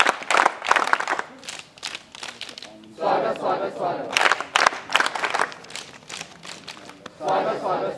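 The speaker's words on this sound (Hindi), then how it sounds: "स्वागत ताली बजा।" Students at a Bharat Scouts and Guides college ceremony clap in welcome: bursts of crowd clapping rise and fade in waves, mixed with a loud voice over a public address and general crowd noise.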